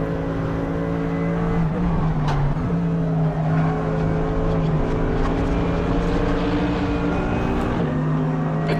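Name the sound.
LMP3 race car V8 engine in a racing video game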